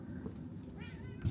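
A pet cat meows briefly outdoors in the snow, one short cry standing out near the end over a steady low background hum.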